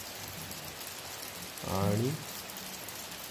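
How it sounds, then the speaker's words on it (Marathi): Continuous rain falls steadily on a surface during a monsoon stay in a village, a dense even wash of drops throughout, while someone briefly speaks once near the middle. "सकाळपासून कंटिन्यू पाऊस पडतो"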